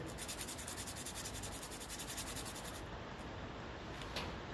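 A brass nut on a 1957 Ferguson 35 TVO tractor gets a quick rub with an abrasive, a soft, fast, rhythmic scratching heard close up and on its own for a few seconds.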